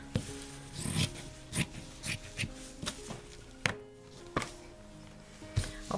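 Scissors snip through fabric as carrot shapes are cut out for a primitive Easter craft, a series of short, crisp cuts in an uneven rhythm, close and clear with brief pauses between strokes and no voices.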